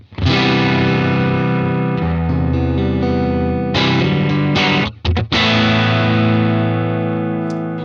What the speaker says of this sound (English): So you can hear that tone's quite a bit dirtier already